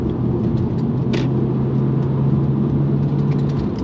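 A BMW 330Ci E46 cruising at around 60 mph and 2,300 RPM, a steady low engine drone with road rumble heard from inside the cabin.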